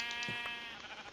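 Sheep bleat in the video game Minecraft, several short wavering bleats overlapping against a steady background tone, moderately loud with no talking.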